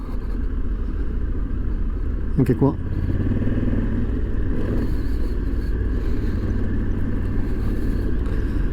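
Africa Twin and BMW GS motorcycles ride through sand in Morocco, their engines giving a steady, close rumble from start to finish, with a brief spoken phrase cutting in partway through.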